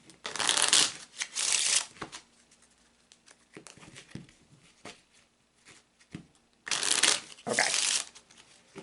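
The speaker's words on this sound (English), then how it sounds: "I'm going to go ahead and shuffle the cards" Playing cards being shuffled in several bursts of riffling and bridging, with quieter handling and tapping of the deck between them.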